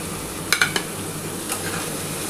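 Pointed gourd (potol) frying in a pan for a vegetarian Bengali potol posto, a steady low sizzle with a few sharp clinks of a utensil against the pan near the start.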